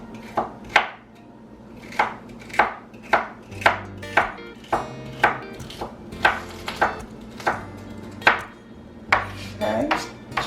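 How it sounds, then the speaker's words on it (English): A knife chops celery on a cutting board for Southern chicken dressing, giving steady, evenly spaced loud thuds about twice a second over a low background hum, with no talking. "And I cut them kind of small because sometimes it takes a little longer for the celery to cook"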